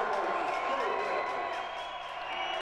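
Crowd at an indoor korfball match roaring and cheering after a score, a dense continuous wall of voices and whoops, with a commentator talking over it.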